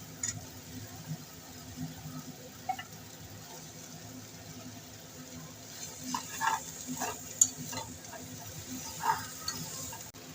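Bottle gourd shoots frying in a pan with spiced eggplant, a quiet steady sizzle with scattered stirring clicks and scrapes that grow busier toward the end.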